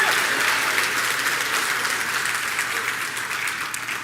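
A church congregation claps together in a dense, sustained round of applause that stays loud and even before tapering slightly at the end.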